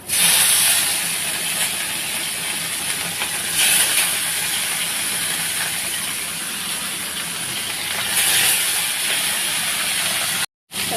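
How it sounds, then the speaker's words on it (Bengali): Bhola fish frying in very hot oil in a pan, a loud, steady hiss and crackle close by, swelling briefly now and then, cut by a short dropout near the end. "চলো কড়া গরম হয়ে গেছে মাছটা ছেড়ে দিই"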